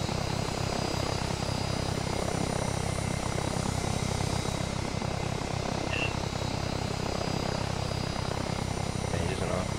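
Blackfish aircraft engine in the video game Arma 3, a loud, constant roaring drone with rotor-like thrum that stays unbroken throughout, with voices talking faintly under it.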